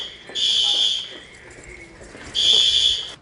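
The Tobago Emergency Management Agency tsunami early-warning alarm gives two loud, harsh electronic blasts, each about a second long, with a short gap between them.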